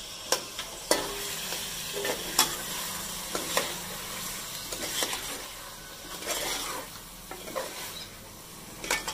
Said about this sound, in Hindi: चिकन भून रही है